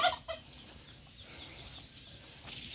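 A couple of short, faint chicken clucks at the very start, then a low, steady hiss of background noise.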